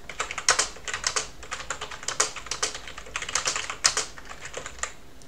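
Steady, rapid typing on a computer keyboard while working in a command-line word processor, close and clear, with quick irregular key clicks running throughout and no voices.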